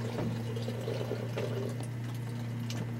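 Cold water runs from a tap aboard a boat, a close, steady splashing flow over the continuous drone of the water pressure pump, with no talk.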